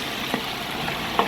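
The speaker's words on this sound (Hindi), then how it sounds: "चिकन को फ्राई कर रहे हैं" Chicken sizzles and fries in a pot for a degi biryani, a steady close hiss with a couple of faint clinks, no talk.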